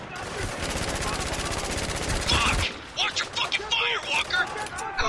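Rapid automatic gunfire rattles in the Spec Ops: The Line shooter game, a dense burst of shots followed by scattered single shots and sounds of combat. A voice talks over it.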